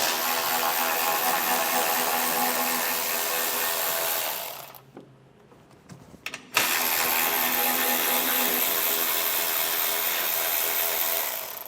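A cordless power tool whirs loudly, backing out 8mm-head screws from the wheel well liner of a 2024 Ram 1500, running for about four seconds, pausing briefly, then spinning up again for a longer steady run.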